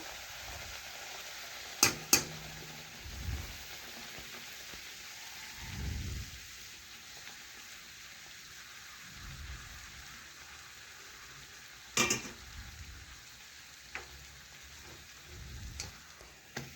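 A flipped paratha fries in hot oil in a kadai with a low continuous sizzle, broken by a few sharp clanks and knocks and some soft low thumps, with no speech.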